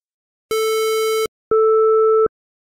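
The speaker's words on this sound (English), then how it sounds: "even though the square wave has a frequency of 440Hz, it has frequency components higher than 440Hz" A synthesized 440Hz square wave sounds as a bright, buzzy tone for under a second, then a second tone at the same pitch that is noticeably duller and smoother. Both are loud, clean and evenly sustained, with no talking.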